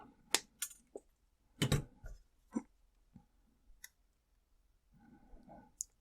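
Jewelry wire snipped with wire cutters while wrapping a cabochon pendant: a few sharp, close clicks and small metallic snaps scattered through an otherwise quiet moment, with no talking.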